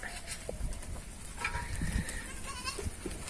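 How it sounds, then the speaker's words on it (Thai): Bleats from goats and sheep on a Boer goat farm, scattered calls near and far over outdoor background noise, with a voice speaking briefly. "มาแล้วนะคะ ทั้งแพะทั้งแกะ"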